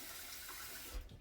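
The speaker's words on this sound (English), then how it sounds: "Now we're going to add some water" Tap water runs steadily into an emptied tomato can in a home kitchen, a quiet, continuous hiss and splash with a small bump near the end.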